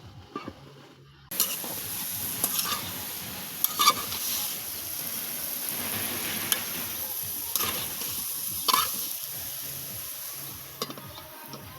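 Potatoes and flat beans with onion fry in a pan, a steady sizzle under frequent scraping spatula stirs and clacks, starting quietly and then jumping louder.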